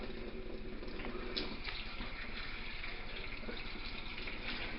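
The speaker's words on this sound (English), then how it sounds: "So under the water, I'm going to take a little bit of a scrub." Cold-tap water runs over beetroot-cured, cold-smoked salmon in a sink as it is scrubbed, a steady close rush with small splashes and shifts in the flow.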